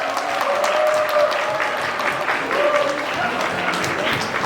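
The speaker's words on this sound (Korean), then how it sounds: "큰 박수 부탁드리겠습니다." Wedding guests break into applause as the ceremony begins, with loud, sustained clapping filling the hall while a voice speaks briefly over it.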